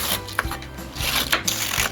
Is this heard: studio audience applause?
no